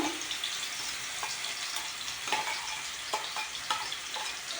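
Steady broadband sizzle of coarsely ground onion paste frying in hot oil for chicken gravy, continuous and close, with a few scraping clicks of stirring scattered through.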